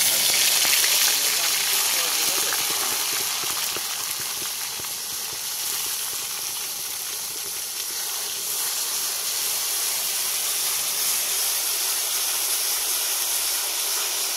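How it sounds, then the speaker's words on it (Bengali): Onion paste sizzles and hisses in hot oil in a pan while cooking paneer butter masala gravy at home, with a steady broad frying noise that holds evenly throughout and no talk over it. "এবার আমাদের তেল গরম হয়েছে, পেঁয়াজটা দিয়ে দেবো এর মধ্যে।"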